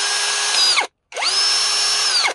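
A cordless 16.8V/18V electric screwdriver drill spins up in two loud, steady high-pitched whirring runs separated by a short pause while its chuck is tightened.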